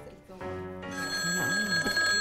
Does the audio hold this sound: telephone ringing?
yes